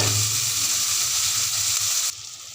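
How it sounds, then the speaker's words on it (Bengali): Chopped tomato stirred into onions frying in a pan for besan kadhi sizzles loudly and steadily up close, then the hiss drops abruptly to a quieter level. "এর মধ্যে টমেটো কুচি দিয়ে ভালো করে নাড়াচাড়া করতে হবে।"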